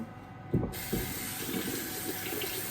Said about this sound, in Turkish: Suyu açık bıraktım.